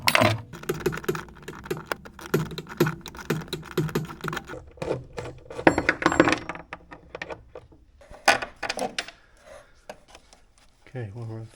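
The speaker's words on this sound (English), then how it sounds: "I need to get this ring spanner on here" A ring spanner working a rusty fixing loose on the front end of a 1967 Jaguar E-Type, close up, with a run of irregular metallic clicks, scrapes and clinks that thin out and grow sparser toward the end.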